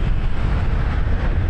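Loud, steady wind roar buffets the microphone of a rider on a motorbike moving through the city streets of Bogor, a dense low rumble filling the whole moment with no break.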